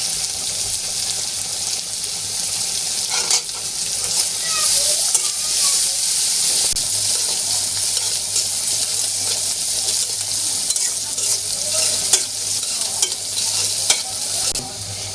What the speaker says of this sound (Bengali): পেঁয়াজটা ভালো করে ভেজে দিতে হবে। এখন আমি দিয়ে দিচ্ছি কাঁচামরিচ।